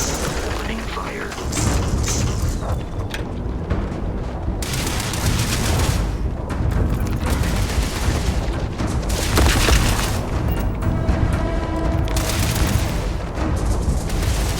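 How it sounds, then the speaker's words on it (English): Gunfire and heavy booms from a firefight in the video game Starfield, dense and continuous over a loud sustained rumble, with bursts of shots throughout and a voice speaking at points. "Opening fire."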